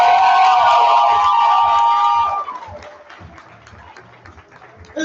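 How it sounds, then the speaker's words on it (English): Audience cheering and shouting for a team at a poetry slam event, loud crowd whoops for about two seconds, then fading quickly to scattered clapping and murmur. "keep the applause going for your team from Miller."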